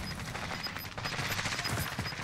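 Gunfire in the Warzone video game, a continuous rattle of distant automatic shots blending into steady background noise, moderately loud throughout.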